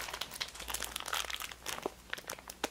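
Plastic snack wrapper being torn and ripped open with the teeth, giving close, continuous crinkling and crackling with sharp little rips scattered through, with no talking.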